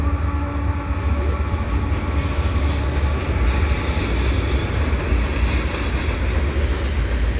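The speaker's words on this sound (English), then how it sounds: "The CN train this time, heading westbound." A CN freight train rolls past westbound close by, a loud continuous rumble with rhythmic wheel clatter holding steady throughout.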